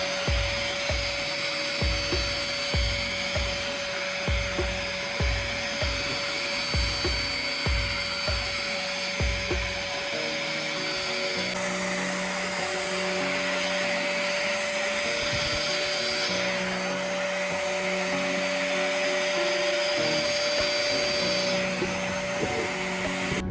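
A Bissell SpotClean Pro extractor works over a filthy floor mat, its steady motor whine running loud and close throughout, with rhythmic chugging pulses in the first half as the suction tool is pushed and pulled, then a smoother, continuous drone.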